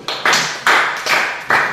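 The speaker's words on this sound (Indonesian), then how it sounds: "tepuk tangan untuk kelompok 1" Short bursts of clapping from a classroom group come in a quick rhythm of about four claps, loud and close, with no talking.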